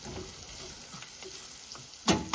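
Cumin and coriander powder being stirred into a hot frying pan, with a steady sizzle and a few soft scraping strokes ending in a sharper clink.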